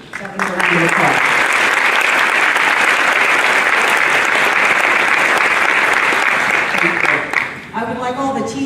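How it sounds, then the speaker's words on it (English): Audience applause at a school district celebration of excellence, a loud sustained roar of clapping that swells in after a voice, holds steady for several seconds, then subsides as someone begins speaking again. "That was a round of applause"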